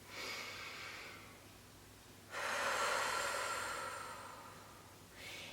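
A voice imitates forced, strained breathing during labor contractions: two long, loud, breathy pushes of air close to the listener, followed by the start of a third.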